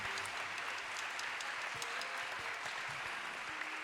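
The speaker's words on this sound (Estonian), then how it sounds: "Aplaus õpetajatele." Steady applause fills a concert hall at an Estonian album launch concert, a dense, even wash of clapping from an audience that holds at a constant level throughout, heard from a distance.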